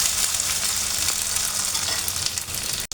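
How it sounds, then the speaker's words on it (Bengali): Leftover cooked meat frying in a pan with garlic, onion and green chilli, giving a steady, loud, close sizzle that holds throughout and cuts off abruptly at the end. "মাংসের সাথে সাথে রসুন পেঁয়াজ কাঁচামরিচটাও ফ্রাই হয়ে যাবে।"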